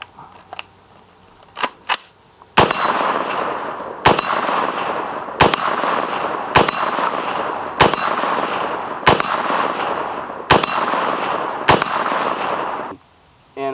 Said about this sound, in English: We're gonna do a little bit more shooting